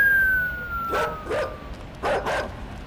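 Two pairs of sharp dog barks ring out inside the dark side-scrolling video game Inside, a guard dog giving chase, each burst loud and close against quiet ambient hum with a faint tone sliding underneath.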